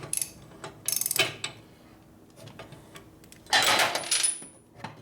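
Metallic clanks from striking the swing arm of a 1972 Harley-Davidson Ironhead Sportster 1000cc during a rebuild: a quick cluster of close, ringing hits, a pause, then another louder burst of knocks.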